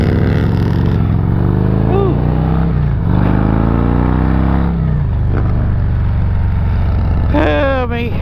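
Harley-Davidson Road Glide motorcycle passing by on a road near loose gravel, a loud low engine drone that swells and revs, with people talking over it throughout.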